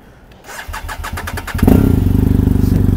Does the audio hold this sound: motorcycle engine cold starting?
yes